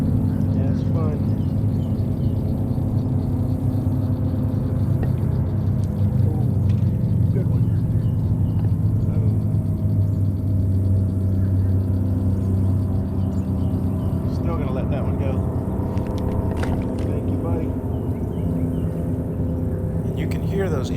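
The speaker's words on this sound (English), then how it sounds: "Those airboat tours running in the background." Airboat tours run in the background of an Atchafalaya Basin swamp in Louisiana, a continuous low engine drone under close talking while fishing for bluegills.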